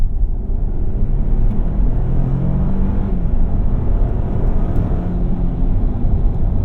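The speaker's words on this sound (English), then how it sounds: "Transmission does take its sweet time to downshift, but once it does, absolutely hauls." A 2024 Lexus GX 550 SUV accelerates hard to pass on the road, a loud, continuous engine and road rumble heard from inside the cabin with no talking.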